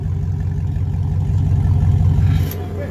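A 2017 GMC Denali pickup engine revs loudly with the exhaust cutout open, a deep, rumbling exhaust throughout, then eases off slightly near the end.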